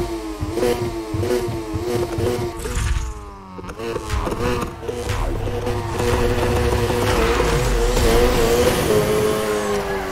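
Race car in the Need For Speed Heat video game, engine roaring and revving hard with rising pitch sweeps through gear changes, tires squealing as it drifts, loud and close throughout with a brief dip near the middle.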